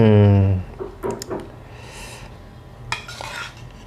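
A spoon scoops dipping sauce for meatballs, giving a few short scraping and clinking strokes against a bowl, close and fairly quiet, after a brief burst of voice at the start.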